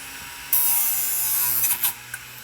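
A small hard drive motor in a homemade sander whirs, then a harsh, hissing grind starts as wood is pressed against its spinning abrasive surface, close and steady.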